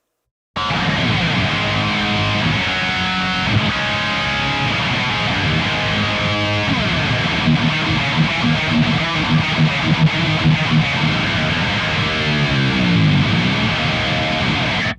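A dense, distorted electric guitar through a rack preamp chugging out a steady rhythm part, thick and saturated, playing continuously for several bars without any talking.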